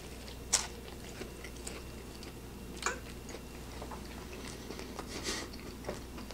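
Someone bites into and chews a waffle made from Fisher scone mix, with a crisp bite near the start, another a couple of seconds later, then faint, soft chewing close by with no talk.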